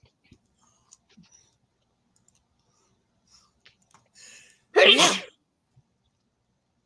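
A single loud sneeze bursts out alone in a quiet room, preceded by scattered faint clicks and small rustles.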